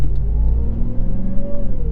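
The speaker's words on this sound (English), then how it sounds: "That supercharger whine is insane." Supercharged Hellcat V8 in a RAM 1500 TRX accelerating hard, a loud deep rumble with a rising whine over it, heard from inside the cab.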